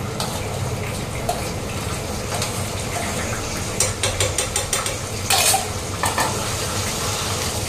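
Wet rice crackling and popping as it is stirred in a hot pan, with scraping spoon strokes and a few louder bursts of clatter near the end, steady and close.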